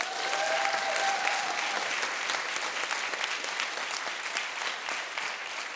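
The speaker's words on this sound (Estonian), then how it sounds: "Aga teeme suure aplausi Koreale!" Loud, sustained applause from a studio audience on a team game show, dense, even clapping that fills the room and holds steady throughout with no break.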